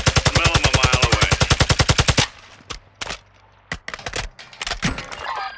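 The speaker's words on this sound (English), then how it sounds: "They're shooting at us." Rapid automatic gunfire from Call of Duty Warzone hammers in a dense, loud burst, then gives way to scattered single shots and cracks at varying distances.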